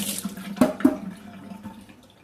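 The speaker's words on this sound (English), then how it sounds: "Hold on, let me wash my hands." Tap water runs briefly into a kitchen sink during hand washing while cooking, with a short close splash and a couple of sharp knocks before it tapers off.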